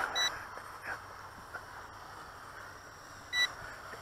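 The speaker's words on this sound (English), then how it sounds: "It's the battery indicator." A WLTOYS Q393-A drone transmitter's battery indicator gives two short, high electronic beeps about three seconds apart, fairly faint over a steady background hiss, with no talking.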